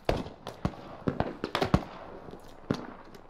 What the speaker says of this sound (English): I just see a bunch of explosions